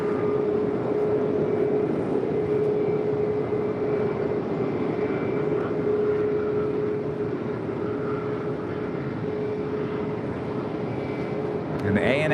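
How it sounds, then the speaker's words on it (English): An ANA Boeing Dreamliner airliner hums at an airport, a steady engine drone with a sustained tonal whine holding throughout, a voice speaking over it. "An ANA Dreamliner"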